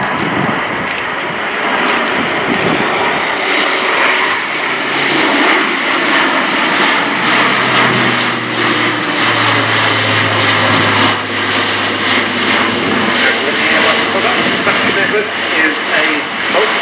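An Airbus A400M Atlas turboprop transport passes with its undercarriage down at an airshow, its engines giving a loud, sustained drone that swells and shifts in pitch as it flies by.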